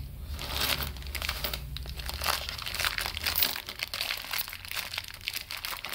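Close, continuous crinkling and rustling of a thin plastic coin packet, with irregular crackles and a few ripping tears as it splits, no talking.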